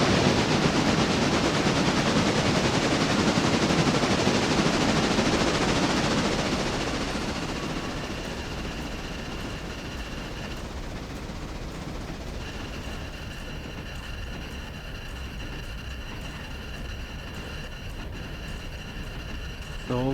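Locomotive in the train-simulation game Railroader backing out for shunting, a loud broadband rumble of rolling stock for the first seven seconds, then easing into a steadier, quieter running drone with faint tonal hum; no talk.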